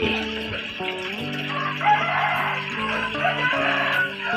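Chickens cluck and a rooster crows at a rural Thai farmstead where more than a hundred birds are kept alongside fish. Layered, fairly loud calls overlap continuously with no talking.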